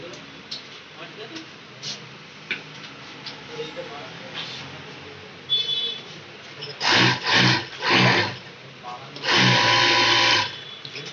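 Flatlock sewing machine running in short bursts, three close loud runs followed by a longer steady stretch, with quieter workshop sounds and faint talk earlier.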